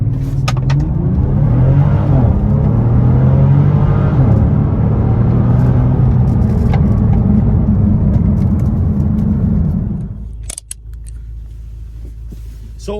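A Bentley Continental Supersports in sport mode accelerates hard, its engine a loud, sustained deep roar climbing in pitch for about ten seconds before cutting to a quieter cabin rumble with small clicks.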